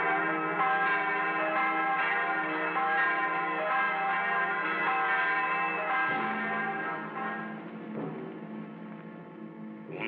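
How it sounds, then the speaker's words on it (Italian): A church bell rings continuously with rich sustained harmonic tones, loud and resonant, layered strikes blending into a steady ringing peal with no speech. "Ora è tempo di suonare la campana."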